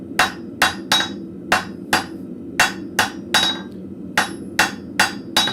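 A blacksmith hammers an arrowhead taper on an anvil, delivering a dozen or so sharp ringing metallic strikes in a steady, slightly uneven rhythm, close and loud against a low background hum.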